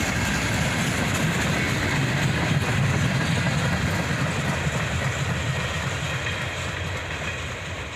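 A long CSX freight train rolls steadily past up close, a continuous loud rumble of wheels on rail with faint clickety-clack and a broad hiss, holding level throughout and easing slightly at the end, with no talk.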